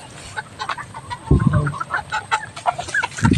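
Backyard chickens gather at feeding time, clucking in short, scattered bursts, some close and some farther off, with no speech.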